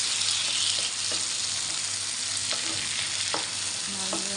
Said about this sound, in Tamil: இப்போ தக்காளி போட்டு கொஞ்சம் நல்லா வதக்கும்.